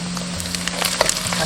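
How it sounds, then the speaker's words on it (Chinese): Shallots fry in rendered pork fat in a wok, a close, steady sizzle with scattered pops and crackles over a low hum, and no one speaking. "锅中不用倒油，直接下入猪肉，煸出油脂。 然后下入红葱头，"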